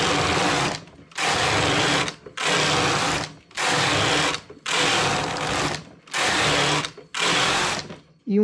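A knitting machine knitting rows of a flared skirt, its carriage passing back and forth in seven loud, evenly spaced mechanical sweeps separated by brief pauses.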